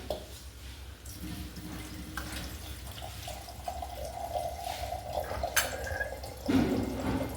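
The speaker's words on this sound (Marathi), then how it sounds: "तुम्हाला किती रसाभाजी हवे त्यानुसार तुम्ही पाणी ओतून घ्या" Water trickles and splashes into a pot of sprouted moth bean curry at close range, with brief clinks and a louder gush of pouring near the end.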